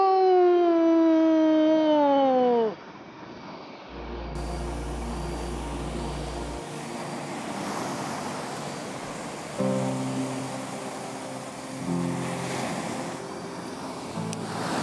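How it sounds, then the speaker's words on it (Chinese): Ocean waves wash onto the shore during a seaside outing, a continuous rushing surf that swells and recedes over several seconds, following a brief burst of higher tonal sound at the start. "我听到海浪的声音了。"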